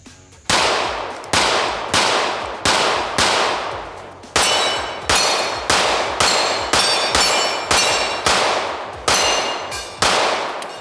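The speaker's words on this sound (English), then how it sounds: "And let's just shoot and see, I guess." Pistol shots from a Canik CR920XP fitted with a DPM recoil spring upgrade, roughly twelve loud, sharp reports fired in steady succession with brief ringing decays and slight metallic clang, close range with no talking.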